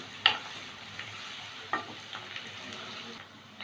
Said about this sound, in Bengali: এবার পেঁয়াজ কুচি দিচ্ছি পেঁয়াজটা এক মিনিট ভেজে নেবো